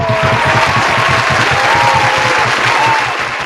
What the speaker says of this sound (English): Let's give you all another round of applause.